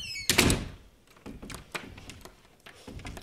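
A door closes with a solid thunk at close range, then a few quieter clicks and taps follow as the lock is worked, with no one talking.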